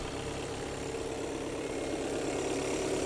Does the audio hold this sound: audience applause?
no